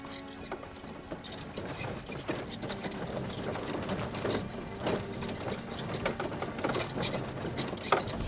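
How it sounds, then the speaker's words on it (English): Carts rattle along a clanking mechanism in a video game, with ratcheting, gear-like clicks and knocks ticking irregularly and fairly steadily throughout at moderate volume, without any voices. "The carts are returning to Arn."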